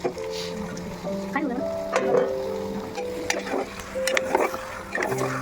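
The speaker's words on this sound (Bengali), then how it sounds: "এবার আস্তে আস্তে করে একটু করে নাড়াচাড়া করে আর ঢাকা দিয়ে দিয়ে ভালো করে এটাকে কষিয়ে নিতে হবে" Duck meat being slowly stirred and sautéed in a pan, with soft scraping and spatula knocks over a low sizzle, close by, mixed with background music and occasional voice.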